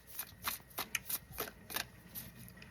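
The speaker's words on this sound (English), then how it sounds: "2 more shuffles." Oracle cards being shuffled by hand: a series of quick riffling swishes and flicks in irregular bursts, close but soft, with no talk.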